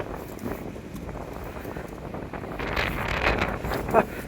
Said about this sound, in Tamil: சரியான காற்றுங்க சரியான காற்று